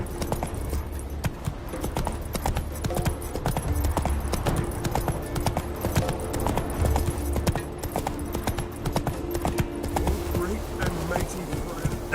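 Hooves of Geralt's horse Roach in The Witcher 3 beat a rapid, steady clip-clop rhythm, close and continuous, while a voice speaks over the galloping.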